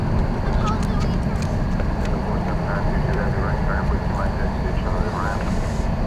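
A 20-year-old Boeing 747-400 arriving from Alaska at Dallas Fort Worth airport gives off a loud, steady jet rumble and whine, with faint chatter mixed in.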